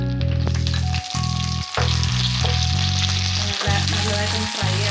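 Green chillies and curry leaves fry in hot oil with a loud, dense, continuous sizzle up close, broken by a few brief dips and pops, with no talking.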